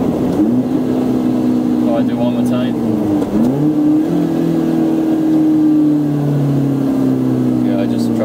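A supercharged Lotus Elise Sport 220 with its intake snorkel removed, the engine revving up and down in two long pulls with a rising supercharger whine, loud and close, while someone talks briefly over it.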